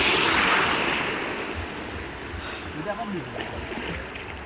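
Ocean waves wash in at Murud beach, a steady broadband surf roar that swells at first and then eases, with wind buffeting the microphone and faint voices in the background.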